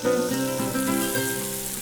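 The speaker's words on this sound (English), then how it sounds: "Now add to the frying pan with the aubergines." Aubergines and mixed vegetables fry in a pan with a steady, close sizzle and faint stirring, loud and continuous without any talk.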